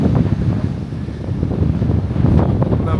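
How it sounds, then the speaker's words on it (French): Strong gusts of wind in Essaouira, Morocco, buffet the microphone with a loud, rumbling roar that surges and eases for the whole stretch, with no voices. "Il y a des rafales."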